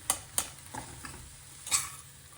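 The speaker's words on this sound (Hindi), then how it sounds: "आलू को तोड़ते हुए मिक्स कर ले।" A spoon stirs and mashes a spiced potato stuffing for aloo paratha in a pan, giving a few sharp scraping knocks and soft squishing strokes over a faint background hum, close and alone.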